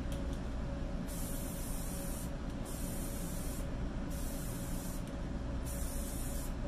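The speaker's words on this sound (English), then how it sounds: "So now we're going to lacquer the other side." Lacquer sprayed onto a workpiece in four steady hissing passes of a couple of seconds each, separated by short pauses, heard close up over a low background hum with no talking.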